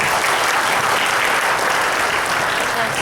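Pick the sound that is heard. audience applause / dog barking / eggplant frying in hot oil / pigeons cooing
audience applause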